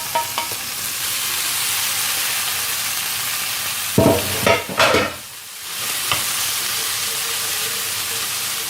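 Minced-meat meatballs fry with meat for homemade tacos, a broad steady sizzle in a pan broken midway by a few loud scraping stirs, then settling back to hissing; close, with no speech.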